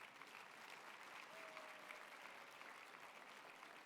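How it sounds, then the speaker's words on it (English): A crowd at an evening humanitarian award celebration claps steadily for honorees with a dense, even patter of many hands, fairly distant and sustained throughout. "Can we please get a round of applause for all of our honorees this evening?"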